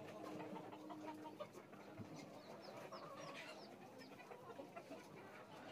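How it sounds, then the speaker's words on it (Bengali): Fayoumi chickens and roosters clucking on a rooftop farm, a steady low chorus of scattered calls from several birds at moderate distance, with no talking. "এপাশে কিছু ফার্মি মুরগি রাখছেন জায়গা সংকটের কারণে"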